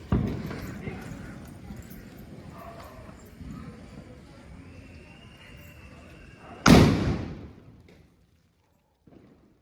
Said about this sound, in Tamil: பேப்பர் பாம் வைக்க போகிறா. வை பத்திருச்சே.